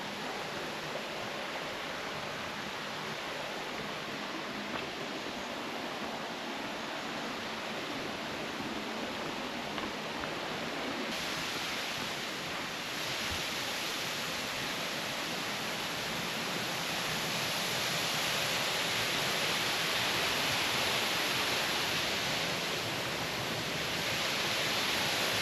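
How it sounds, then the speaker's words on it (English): River water runs continuously beneath in a soft, even rush somewhere nearby, growing a little louder toward the end, with no voices over it. "I can hear some water."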